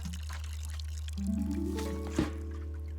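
Water poured onto a freshly planted fulguria in the cozy English flower game Botany Manor, a soft rising pour with a brief splash near the end over a steady low hum, no voices.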